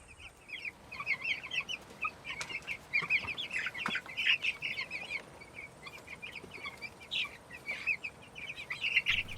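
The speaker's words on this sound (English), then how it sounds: "Let's go feed the chickens." Chickens cluck and chirp steadily on a small Canadian homestead at feeding time, a dense run of short calls from several birds close by with no talk.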